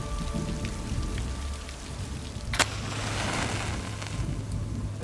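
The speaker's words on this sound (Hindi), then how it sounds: "आज लगता है बारिश कुछ ज़्यादा ही हो गई।" Heavy rain pours down steadily, a dense hiss of drops on surfaces, with one sharp crack partway through and a low hum beneath.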